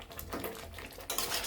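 Fried potato pieces tumble into a pan of roasted masala, giving clattering metal-on-pan knocks and scraping, with a louder burst of clatter and rustle near the end.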